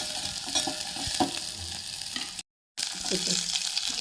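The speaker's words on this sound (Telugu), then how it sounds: "ఇలాగ ఆనియన్స్ వేసేసిన తర్వాత ఇంకా అలాగా ఫ్రై చేసుకుంటూ ఉండాలి" Onions frying in a pan while being stirred, a continuous close sizzle with scraping and clattering stirs, broken by a brief silent gap.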